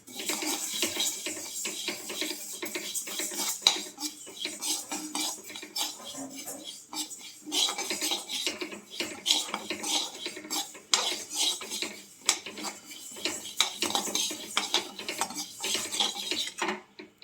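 Mung dal dry-frying in a pan while being stirred, heard as a busy, close rattle and scrape of utensil against metal with grains shifting, constant but uneven throughout.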